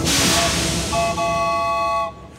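A cartoon train pulls into a station with a loud hissing rush of steam and sustained whistle-like tones that stop abruptly.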